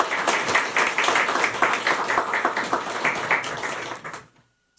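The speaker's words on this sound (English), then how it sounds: "Could we give him another round of applause, please?" Sustained crowd applause at the opening session of a conference, many hands clapping densely for about four seconds before cutting off into near silence.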